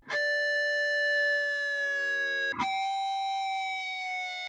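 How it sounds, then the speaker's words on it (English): Bright fifth-string harmonics on an electric guitar slowly dive-bomb downward in pitch with the whammy bar, sustained and ringing, then a second harmonic attack that sinks again. "dive-bombing fifth-string harmonics over and over again"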